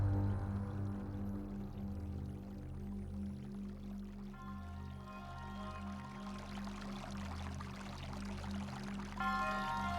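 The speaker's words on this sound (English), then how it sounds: "So you can hear water, but where is it?" Steady running water flows beneath a low droning hum and tonal ambient music in The Legend of Zelda: Breath of the Wild, continuous for the whole stretch with no voices.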